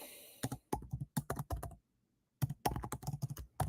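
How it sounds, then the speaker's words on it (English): Fast typing clicks on a computer keyboard in quick clusters, close and quiet, with a pause of under a second midway and no talking. "I'll just type the link in here."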